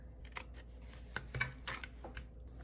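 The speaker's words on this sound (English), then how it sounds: "I'm gonna cut this guy. Let's cut this way first." Scissors snipping through planner paper with floral paper pieces nearby: a few short, crisp cuts and rustles, close and fairly quiet, with no talking.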